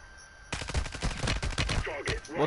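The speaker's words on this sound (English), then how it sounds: "I'm getting shot at." Rapid automatic gunfire aimed at the player in a video game breaks out after a quiet half second, with close, loud, crackling shots in quick uneven bursts and no talk over it.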